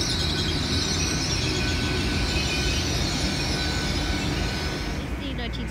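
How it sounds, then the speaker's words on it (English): A Great Western Railway Class 802 train arriving at St Austell station in the dark on a service to Penzance, a loud, steady rumble of wheels and engine with a hiss and faint squeal on top that eases slightly near the end. "Arriving now is the 1916 Great Western Railway service to Penzance."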